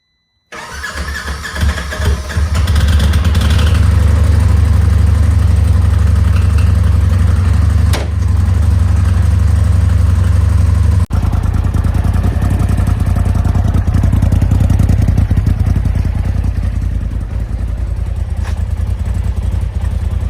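A Porsche Turbo S engine cranks and fires, then settles into a loud, steady idle while warming up, its deep rumble close and continuous for the rest of the span.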